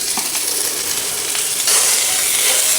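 Chorizo and potatoes frying together in a pan over a lowered flame, giving a continuous close sizzle and hiss that grows slightly louder partway through.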